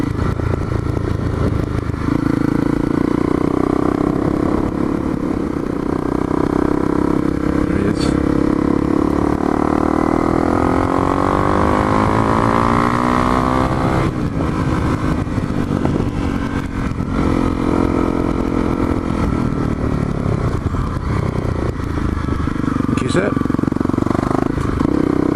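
Honda CRF250L motorcycle riding on a country road, a steady engine drone with rising and falling revs and wind noise throughout, while a rider talks over it.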